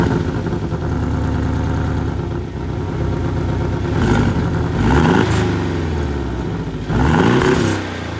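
A Porsche 718 Boxster T fitted with the sports exhaust idles with a throaty burble, then is revved several times in loud rising and falling bursts, heard up close with no talking.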